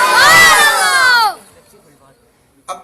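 A large crowd at a devotional hamd and naat gathering answers together in a loud, sustained chant of praise for about a second before it fades to near silence, then a brief burst of voices returns at the end.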